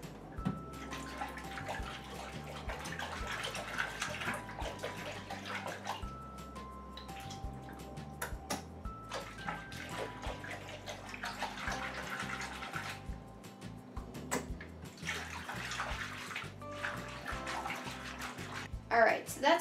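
Tap water runs into a small tub being filled to bathe a pet rat, a continuous splashing and dripping stream with clinks and handling noises, while a person talks over it.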